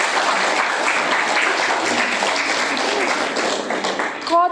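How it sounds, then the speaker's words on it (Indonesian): Dense, continuous applause from an audience at the end of a classroom presentation, loud and sustained with no pauses, and voices barely audible beneath it. "Kita tepuk tangan."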